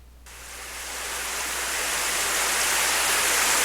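Steady rain in a visual novel game swells in from near silence to a dense, even hiss of falling water that keeps building and then holds, loud and continuous with no voices.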